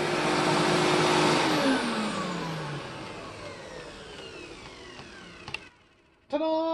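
A vacuum cleaner with refurbished bearings runs loudly on medium pile carpet, then its motor winds down in a long falling whine to near silence, followed by a couple of sharp clicks and a sudden burst as it restarts.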